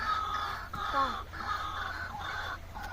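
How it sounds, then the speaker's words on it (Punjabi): Several harsh bird calls ring out from a tree at a moderate distance over a steady outdoor hiss, repeating every half second or so with brief gaps between. "ਪੰਛੀਆਂ ਦੀਆਂ ਆਵਾਜ਼ਾਂ ਕੀ ਦੀਆਂ"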